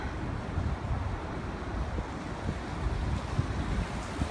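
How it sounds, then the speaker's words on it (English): Steady gusting wind on the Chicago lakefront on a chilly day, with a low rumbling roar of air buffeting close by and a faint wash like waves underneath, continuous and without speech. "Oh, I lied, the wind's picking up."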